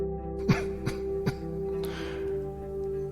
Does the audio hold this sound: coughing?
yes